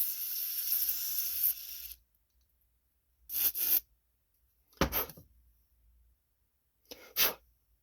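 Carburetor cleaner sprayed from an aerosol can into the carburetor of a Cub Cadet GT 3000 riding lawn mower: a long hiss, then three short, sharp bursts separated by silence, close and clear.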